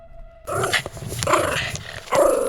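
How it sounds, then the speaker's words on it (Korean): A dog suddenly breaks into loud, close barking and growling after a moment of near silence, set within a Korean ghost story. "사랑이가 갑자기 막 짖기 시작했대요"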